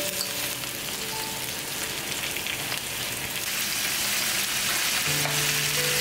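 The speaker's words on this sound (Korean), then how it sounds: "내장과 알도 넣은 뒤 잘 구워주세요." Pollock with its innards and roe frying in a pan, a steady bright sizzle and crackle of hot oil running continuously at close range, growing slightly louder toward the end, with no voices.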